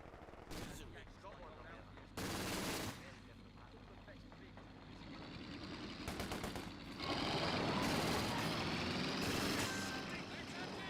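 Gunfire from a Company of Heroes 2 battle, with bursts of machine-gun fire and heavier blasts over a dense rumbling combat background, fairly faint and continuous, with voices speaking amid the fighting.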